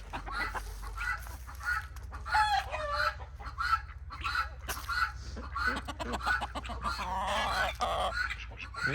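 Rooster crowing among other barnyard fowl such as ducks, geese and guinea fowl, several repeated calls through a steady low hum, fairly close and moderately loud.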